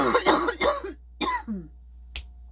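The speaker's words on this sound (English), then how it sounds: "I'm fixing to have to cough again." A woman coughs several times in quick bursts from a tickle in her throat, loud and close, followed by a short throat clearing and a sharp final cough after a pause, with no talking.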